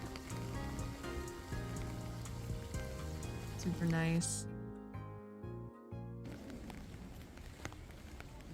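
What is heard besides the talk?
rain falling on an umbrella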